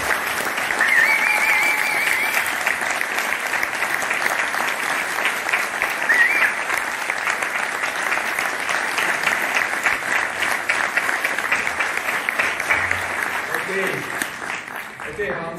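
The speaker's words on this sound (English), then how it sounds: "I want the whole audience to applaud for him" Steady, full audience applause from a crowd at a live launch event goes on without a break for about fifteen seconds, close and even in loudness, with a brief voice near the end.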